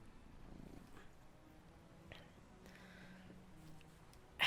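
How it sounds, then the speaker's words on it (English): A house cat purrs softly and close by, a faint, steady low rumble that runs under quiet room noise and ends in a sudden sharp noise. "It's my cat. Little kitty."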